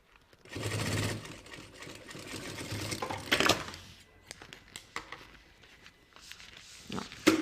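A sewing machine stitches a seam toward a terminal, running in a steady mechanical whir with short pauses and small clicks of fabric handling, close and fairly loud.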